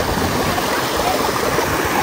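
Shallow river water at Discovery Canyon in Red Deer, Alberta, rushing in a steady broadband wash, close and continuous, with no voices.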